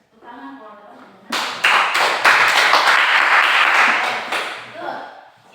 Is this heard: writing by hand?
no